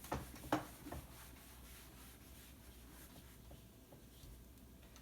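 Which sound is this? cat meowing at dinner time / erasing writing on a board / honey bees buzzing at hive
erasing writing on a board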